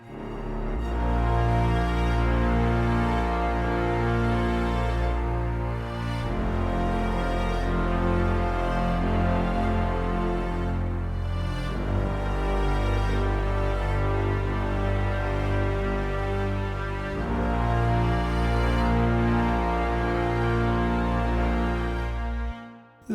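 Orchestral low brass, bass trombones and tuba, play sustained chords backed by viola, cello, double bass and a deep sub bass, forming a dense, loud wall of low tone with slow swells.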